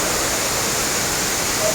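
The Courtallam waterfall pours in a constant, broad rush of falling water close by, a dense hiss that holds evenly without voices.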